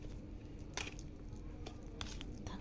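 Hands squishing and kneading marinated chicken coated in red food colouring and salt, soft wet slaps and squelches in an irregular rhythm, close and fairly quiet.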